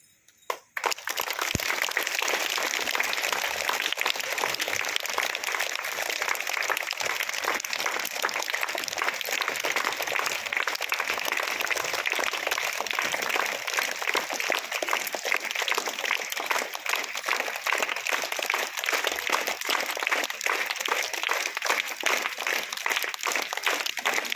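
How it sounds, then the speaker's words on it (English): Students clap at a school awareness programme, dense and loud applause starting abruptly and continuing steadily for the whole stretch. "Claps."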